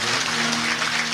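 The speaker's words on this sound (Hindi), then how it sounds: "सर्वप्रथम भाई एक बार जोरदार तालियों के साथ इस संपूर्ण आयोजन का अभिनंदन हो।" Applause fills a religious discourse gathering during a Shiv Mahapuran katha, a dense, even wash of clapping from a large audience heard in a short burst.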